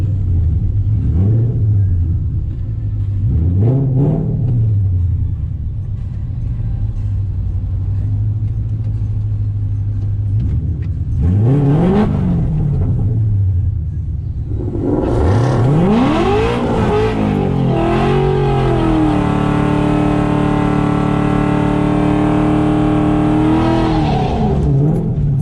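A drag racing car's engine blips and rumbles loudly at idle, then roars into a long, sustained high-revving pull that climbs steadily before cutting off near the end.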